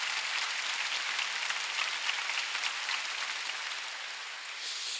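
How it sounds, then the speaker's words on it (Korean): A church congregation at a worship service claps steadily and loudly, a thick, continuous wash of many hands that holds for the whole stretch without a break. "박수 좀 세게 쳐보세요."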